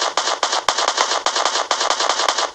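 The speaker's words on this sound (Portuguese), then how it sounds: "Eu só ouvi 3 tiros." Rapid, sharp gunshots in Free Fire crack in quick succession, loud and close, forming a stuttering burst of automatic fire.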